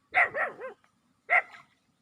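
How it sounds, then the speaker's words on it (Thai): A hungry stray dog at a temple barks three sharp, close yaps in quick succession, then, after a short pause, one more, with nothing else around. "เร็วเร็วนู่นไปเห่าอยู่นู่น"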